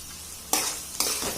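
Onions sizzling in a hot pan for an onion egg curry, a steady close frying hiss with two sharp bursts as they are stirred, no voices.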